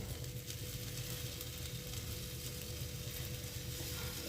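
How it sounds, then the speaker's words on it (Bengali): Vegetables, lentils and oats frying in a pan, a steady soft sizzle with faint stirring scrapes, continuous and close with no voices. "সব সবজি আর ডাল একসাথে ভেজে নিচ্ছি।"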